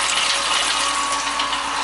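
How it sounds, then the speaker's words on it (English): Cold water runs steadily from a sink tap through an adapter into an ice-water bath for cooling homebrew wort, a constant close hiss of flowing water with no talk. "You see I got a little adapter bringing cold water from the sink into the ice water."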